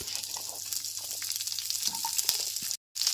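Cauliflower and other vegetables hiss and crackle in hot tempering oil in a pan, a steady close sizzle with a few soft stirring knocks and a brief dropout near the end.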